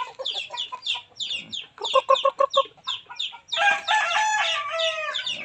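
Aseel chickens clucking in short, irregular bursts, followed near the end by a longer, drawn-out crow-like call, fairly close and with no voices.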